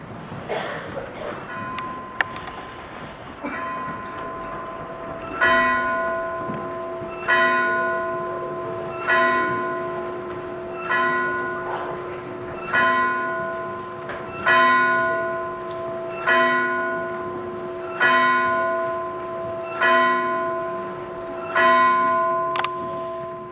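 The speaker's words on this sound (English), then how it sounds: "the bell struck 12." A church bell tolls at midnight, striking twelve in steady evenly spaced strokes, each ringing out and decaying before the next, heard clearly over a quiet background.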